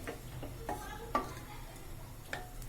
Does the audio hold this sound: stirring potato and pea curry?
yes